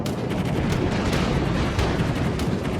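Explosive gunfire-like blasts from a torpedo hit in World of Warships, a dense continuous roar of booming impacts throughout, loud and close, with no voices.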